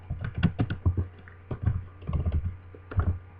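JavaScript code is typed on a computer keyboard, a quick, uneven run of crisp clicking keystrokes heard up close, with short pauses between bursts.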